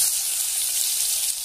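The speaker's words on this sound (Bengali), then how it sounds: "আর 1 পিঠ আমি ভালো করে ভাজতে দেবো এটাকে, চিংড়ি মাছের মাথাটাকে।" Prawn heads frying in oil in a pan give a steady, close sizzle with a bright crackling hiss that stays even throughout, with no talk.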